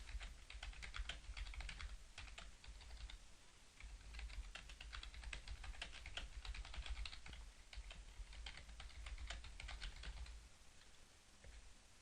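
Steady typing on a computer keyboard, quick irregular key clicks close up with a soft low hum underneath.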